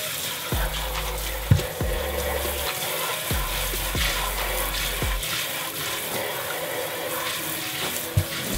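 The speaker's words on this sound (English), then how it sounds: "Let's take them to the sink, rinse them out" Dyed white Vans shoes are rinsed under a running sink tap, a steady splashing water flow with bursts of lower gurgling and a few knocks as the shoes are moved, heard alone.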